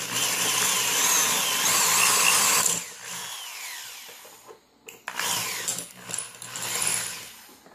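A power drill fitted with a brand-new bit bores a hole through a wheel lug during a Nissan D22 wheel bearing modification: a loud, close, steady grinding whine that later breaks into stop-start bursts.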